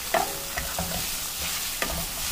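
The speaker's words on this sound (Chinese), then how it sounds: "我们倒入洋葱丁、蒜末和姜末一块煸炒" Diced onion, minced garlic and ginger stir-fried in a wok for spicy bean sauce fish, a soft continuous sizzle with a few scraping strokes of a spatula.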